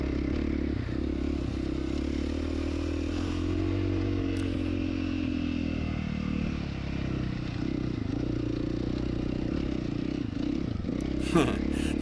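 Husqvarna FC450 dirt bike on a test ride, its engine droning steadily and loudly throughout with rattling and clatter from loose terrain, plus wind noise and a brief sharp knock near the end.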